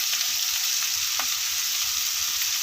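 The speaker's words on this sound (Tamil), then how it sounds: "வெங்காயம் போட்டிருக்கோம் நம்ம கரம் மசாலா கொஞ்சம் சேர்ப்போம் நல்லா வதங்கட்டும்" Onions with garam masala and a little asafoetida sautéing in a pan give a steady close sizzle, with a faint scrape of stirring partway through and no talking.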